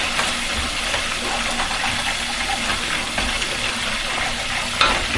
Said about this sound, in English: At this point you can reduce the heat because it's frying very fast.